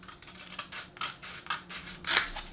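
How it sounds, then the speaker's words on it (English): Scissors cut through paper while a homemade journal is being made, giving a series of close, crisp snips and slicing rasps, about five strokes in quick succession, with no voices. "you can use your scissors to cut that"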